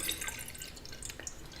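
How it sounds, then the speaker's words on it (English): Water trickles and drips as it is added to a lotus planter, a light close patter with a few brighter droplet taps over a soft steady wash. "and start by adding a little bit of water."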